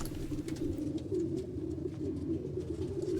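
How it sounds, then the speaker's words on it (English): A recording of pigeons cooing plays in a steady stream, low repeated coos layered over one another at a moderate level with no talk over them. "No, I need pigeon sounds."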